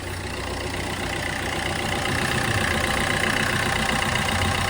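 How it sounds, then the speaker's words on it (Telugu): A 2015 Maruti Suzuki S-Cross idles with the bonnet open, giving a steady, even engine hum recorded up close that holds alone for the whole stretch. "ఇంజన్ సౌండ్ అయితే చూసుకోవచ్చు, చాలా స్మూత్గా ఉంది."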